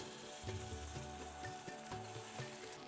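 Ginger garlic paste sizzles in hot oil with onions for a chicken curry, a steady close frying hiss with soft scraping stirs throughout.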